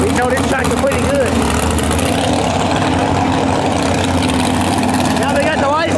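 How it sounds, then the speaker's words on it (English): A pulling tractor at a county fair tractor pull roars with a heavy, continuous low engine drone, steady and loud throughout, with voices faintly under it. "We know this tractor pretty good."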